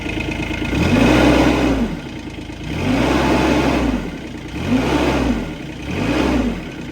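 Engine on an SVL 1000 or boxer 427 revved to high idle after an alternator belt adjustment, four rising and falling rev swells over a steady running drone, close and loud, with no squeal.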